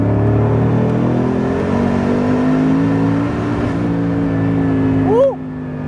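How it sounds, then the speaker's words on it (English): A Noble M600 supercar with 740 brake horsepower and turbo boost pulls hard at full throttle, its engine drone rising steadily in pitch, heard from inside, with a brief sharp chirp near the end. "Let's just have the full 740 brake horsepower, shall we? Let's open it up and see what it's like."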